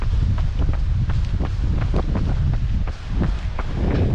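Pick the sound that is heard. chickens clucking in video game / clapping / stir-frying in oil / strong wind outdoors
strong wind outdoors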